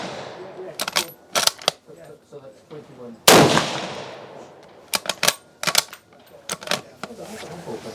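A big game bolt-action rifle fires one loud, sharp shot midway, echoing briefly outdoors at a shooting event. Crisp mechanical clicks and clacks of the bolt being worked come before and after it.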